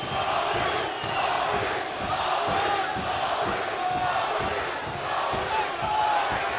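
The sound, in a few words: arena crowd chanting at UFC fight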